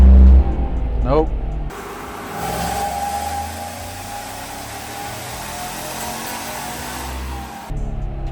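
An L83 truck engine with a BTR Stage 2 cam pulled on a dyno, a loud rising rev dropping into a sustained steady roar for several seconds before cutting off, with voices talking over it.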